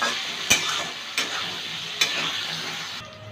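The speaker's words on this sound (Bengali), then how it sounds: "আলুটা ভেজে নেব।" Potatoes fry in oil with salt, turmeric and green chilies for a Bengali thor ghonto, a steady close sizzle broken by three sharp scraping stirs of the spatula against the pan.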